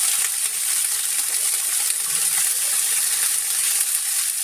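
String beans hit a pan of browned onion and garlic and sizzle steadily. The hiss stays close and even and runs unbroken throughout.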